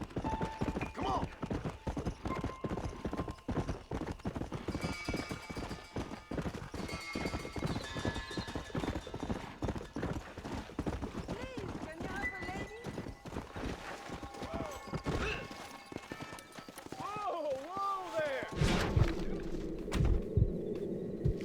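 Hooves pound in a quick, rhythmic clip-clop as a horse gallops in the Western video game Red Dead Redemption, with game music or noises layered on top, a neigh near the end, and a player talking over the action.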